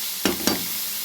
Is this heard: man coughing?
no